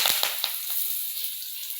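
Curry leaves dropped into hot oil with onions give a burst of crackling pops at first, settling into a steady bright sizzle.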